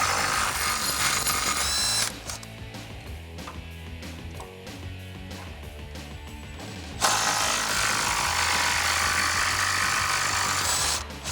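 An impact gun drives an 18mm socket to pull the passenger-side differential mount bolts on a 2014-2018 Silverado 1500, with two loud, sustained whirring bursts, one at the start and one near the end, and a quieter mechanical stretch between them.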